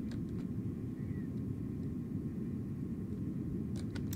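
Steady low rumbling drone of an airplane engine idling in the AirportSim video game, constant and fairly loud with a faint whine above it and a few small clicks near the end.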